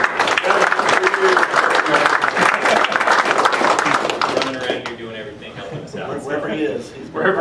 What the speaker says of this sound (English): Let's give Kevin a round of